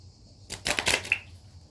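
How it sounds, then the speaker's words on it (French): Oracle cards from a mirror-themed deck being shuffled for a reading, a short burst of quick papery riffling and flicking up close, about a second long, with no talk. "je voulais juste faire un tirage avec l'oracle des miroirs pour terminer"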